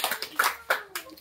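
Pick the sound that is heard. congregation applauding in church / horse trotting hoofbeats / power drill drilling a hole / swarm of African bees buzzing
congregation applauding in church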